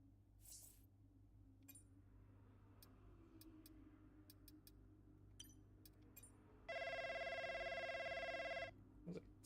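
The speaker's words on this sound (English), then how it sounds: "That was a terrible ringtone." A telephone ringtone sounds in the F1 Braking Point 2 racing game: a bright, continuous electronic ring lasting about two seconds, loud against quiet background ticks and faint clicks.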